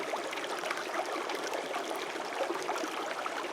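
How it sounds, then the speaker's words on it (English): Flood-swollen stream with plenty of water rushing through a mining claim area, a steady, dense broadband rush of running water close by, continuous with no talk. "lots of flood material in here, lots of good water running"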